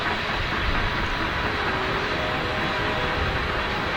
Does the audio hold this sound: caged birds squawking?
no